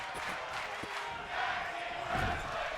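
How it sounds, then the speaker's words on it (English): Arena crowd at a tag team wrestling match chanting together in a steady, distant roar that swells slightly partway through, with no clear single voice. "Chants of tag team wrestling emanate from the crowd."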